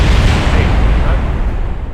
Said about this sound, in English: I don't know if we're going to have an explosion.